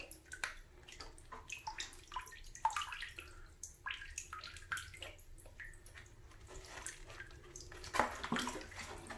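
Water trickling and dripping out of a soaked portable Bluetooth speaker, a quiet, irregular patter of small splashes and drips.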